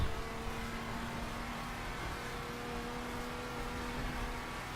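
Tuned Porsche Cayman in raid spec from The Crew, its engine droning steadily and fairly loud with a sustained tonal hum throughout, no voices present.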